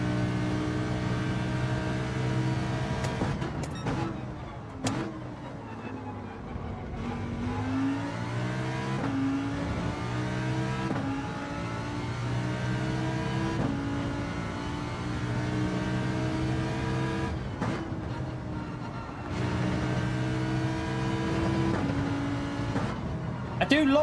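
Lamborghini Group 4 race car engine in Gran Turismo 7, a steady loud drone with rising and falling pitch through gear changes and throttle lifts, continuous throughout.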